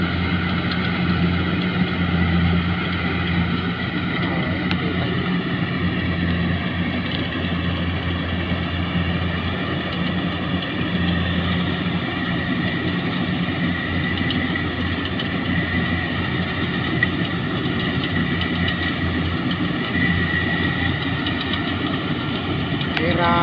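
A large Yanmar EW70B excavator diesel engine runs steadily, a loud continuous rumbling drone with a constant hum that holds without break throughout.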